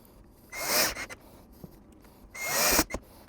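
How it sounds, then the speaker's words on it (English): Screws are driven into a Philips WiFi keypad door lock in two close, rasping bursts of scraping and turning, with quiet pauses between them. "you just want to screw in the 2 screws"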